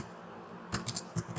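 Several quick computer-keyboard keystrokes tapped out in a short burst while entering a command, close and crisp against a quiet room.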